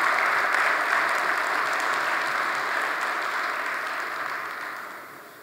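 Long, steady audience applause at the close of a motivational talk at a corporate meeting, a dense wash of many hands clapping that stays even and alone before thinning slightly at the end.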